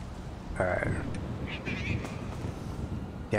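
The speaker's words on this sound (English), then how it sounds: "Damn cats." Cats meow in a police roleplay video game, a few short mewing calls mixed with game ambience and someone talking.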